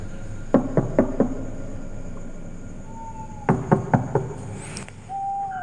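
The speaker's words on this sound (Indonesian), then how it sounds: "mendengar suara ketukan pintu" Two bursts of three sharp knocks on a wooden door at night, close and distinct, separated by a quiet pause with a faint tone in the background.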